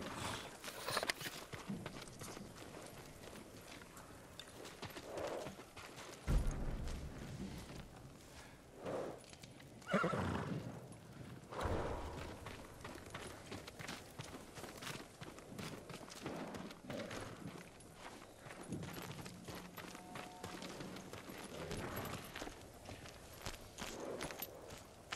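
Horse hooves clopping and shuffling on the ground in Ghost of Tsushima, irregular footfalls near and far with a few louder snorting bursts over quiet ambient game sound.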